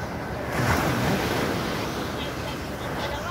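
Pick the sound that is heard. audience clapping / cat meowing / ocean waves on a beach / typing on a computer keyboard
ocean waves on a beach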